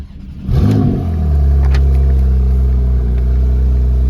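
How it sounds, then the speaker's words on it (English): A Porsche 911 Carrera 4 GTS (991, 3.0-litre turbo petrol, PDK, 4WD) cranks and fires with a loud flare, then settles into a steady, deep idle close by. "I'll just start it up so you can hear it."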